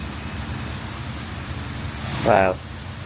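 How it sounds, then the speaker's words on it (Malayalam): Steady rain falls at a village resort in Alleppey among houseboats, a continuous even hiss throughout with one brief louder tonal burst near the end. "ഇതാണ് മക്കളെ ഇവിടുത്തെ മഴ മൂഡ്."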